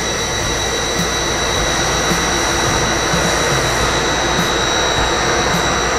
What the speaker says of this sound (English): And turn the grinder on.